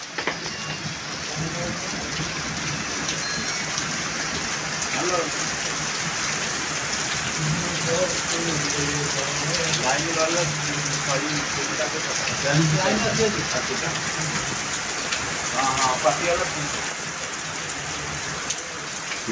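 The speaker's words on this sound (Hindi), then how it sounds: "बहुत दिन पर वर्षा हो ना" Steady rain falls on the open ground near the Tata mines, a dense hiss that holds constant throughout with faint patter and a few distant background sounds mixed in.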